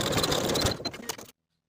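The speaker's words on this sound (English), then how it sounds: "I'll overlap the short edges by 1/2 inch and stitch in place back and forth" A sewing machine stitching overlapped elastic back and forth, a dense close mechanical whir that runs steadily, then stutters briefly before stopping and leaving silence.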